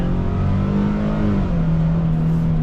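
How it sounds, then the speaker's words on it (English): A 2025 Nissan Frontier SL crew cab 4x4 V6 pickup accelerating hard from a standstill, a loud, close engine drone with a steadily climbing rev pitch heard from inside the cab, no talk. "So if I go from a standstill, I mean, you really got to punch it to get moving"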